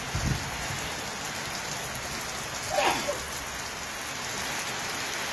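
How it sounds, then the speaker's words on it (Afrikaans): Steady heavy rain pours down in the cold, wet far south near Lüderitz and Aussenkehr, a constant dense hiss filling the scene, with a faint brief rumble and swish partway through and no voices. "Het reën man, dit reën."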